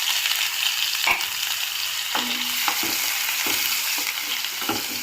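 Onion frying in oil with urad dal and chana dal, a steady close sizzle with occasional clinks and scrapes of a stirring utensil.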